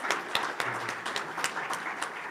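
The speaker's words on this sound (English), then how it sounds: "Let's give our guests and presenters another round of applause" A round of applause at a weekly community meeting for guests and presenters: brisk, close clapping from a modest group, dense and even throughout.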